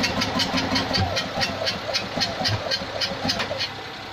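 The engine of an old Invacar, left abandoned in a field for years, cranks and tries to start. A steady, rhythmic chugging churn with a hissy edge continues throughout, fairly loud and close, with no voices.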